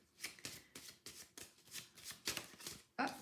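A deck of oracle cards being shuffled in steady, repeated riffling bursts, close but very quiet, with a sharper flick near the end.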